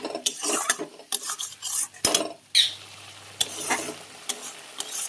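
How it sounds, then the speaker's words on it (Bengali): A spice paste of onion, ginger, garlic and tomato with salt and turmeric is fried and stirred in a pan: sharp clinks and scrapes of a utensil against metal come in irregular bursts over a low sizzle, close by, with no talking. "এবার মশলাটা ভাজবো ভালো করে"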